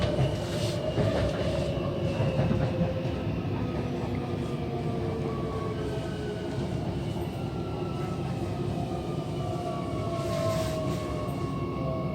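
A Gautrain passenger train runs between Rhodesfield and Sandton, heard from inside the carriage as a continuous loud rumble with faint wheel squeals and rail noise throughout.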